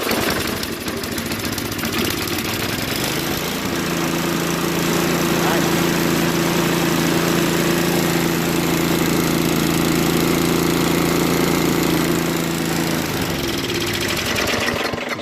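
A Craftsman 524 trac drive engine, just after a quick carburetor cleaning, cranks on electric start and settles into a loud, steady running drone that continues close by throughout.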